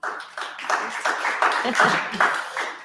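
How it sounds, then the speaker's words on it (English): A small audience claps for a panelist at a discussion event: close, fairly loud clapping with distinct individual hand strikes in a brisk, uneven patter lasting about three seconds. "Can I get an applause for Dilara?"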